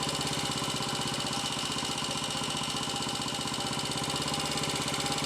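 A Royal Enfield 250 five-speed motorcycle engine with a fault jumping out of third gear runs steadily nearby, a loud continuous rapid thumping mechanical drone with no clear gear change heard.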